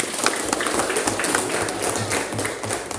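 Applause from a classroom audience, steady broadband clapping that fills the whole stretch at an even level, with some faint voices mixed in.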